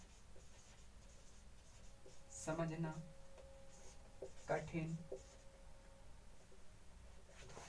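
Chalk or marker strokes from a teacher writing on a board during a vocabulary lesson, two short bursts of scratchy writing over a steady faint hum, with a voice talking in between.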